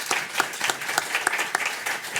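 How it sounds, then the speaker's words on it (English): An audience applauds panelists at a research conference, with light clapping and a few distinct individual claps standing out over a short stretch. "let's give our panelists a round of applause"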